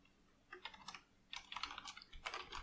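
Quick bursts of computer keyboard typing while writing game code, several clusters of soft, close key clicks with brief gaps between words.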